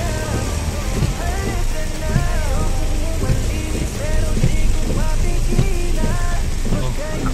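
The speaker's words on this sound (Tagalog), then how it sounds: "Lakas ng ulan sa labas." A dense, continuous wash of heavy rain with an engine hum underneath, steady and loud throughout, with faint voices murmuring in the background.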